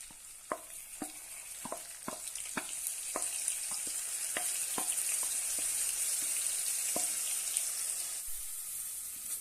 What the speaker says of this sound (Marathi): छानपैकी आपण तुपामध्ये भाजून घेऊया लालसर होईपर्यंत आपण हे भाजून घ्यायचं